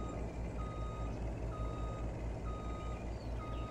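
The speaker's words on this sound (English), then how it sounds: "here is our truck. We will back it up all the way" Truck in Farming Simulator 22 reversing, a steady evenly spaced high reversing beep repeating about every second over a low, constant engine rumble, with no talk.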